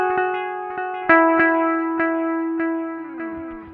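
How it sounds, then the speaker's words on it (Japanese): An electric guitar runs through a BOSS DD-20 Giga Delay in pan delay mode. A few picked notes ring out and their delayed repeats cascade, then a strummed chord trails off. "これがパンニングディレイです。"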